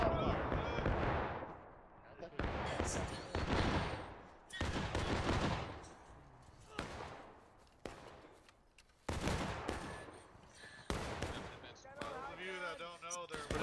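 Musket volleys in War of Rights, a series of loud sharp blasts scattered irregularly across the field, each with a booming decay, while players talk between and over the shots.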